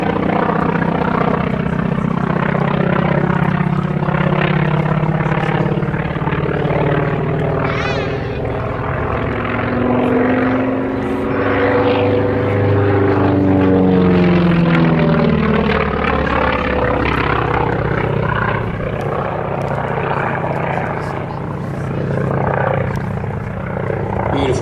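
A Grumman Wildcat's Pratt & Whitney Twin Wasp radial engine of about 1200 horsepower drones loudly and steadily throughout a solo air display at Sywell, its pitch sliding as the fighter passes and banks, with a commentator's voice over it.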